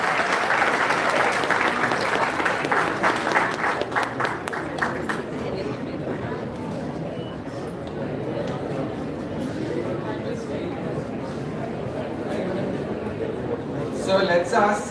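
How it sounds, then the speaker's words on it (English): Audience applause at a donor–recipient meet in Vizag as cricket wicketkeeper KS Bharat is welcomed on stage: dense clapping, loudest in the opening seconds, then a steady wash of crowd clapping that carries on to the end. "Let's clap and applause to the"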